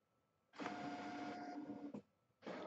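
An inkjet-style printer runs an embroidery design printout, giving a loud, steady mechanical whir of about one and a half seconds, then a brief pause before the motor starts up again.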